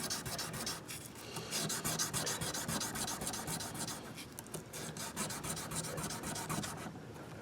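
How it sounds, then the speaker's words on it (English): Rubbing and polishing the metal frets of a Hondo Formula 1 electric guitar produces steady, close, raspy scrubbing strokes in a continuous rhythm, with no voices. "polish and clean the frets without spending money on it."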